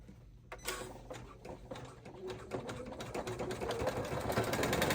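An embroidery machine stitches the exterior of an in-the-hoop fabric bag, a fast, steady mechanical chatter that starts abruptly and grows louder and busier over several seconds, with no talking.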